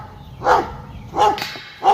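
A dog at a disc golf course barks three times at an even pace, loud and fairly close, with no talk over it.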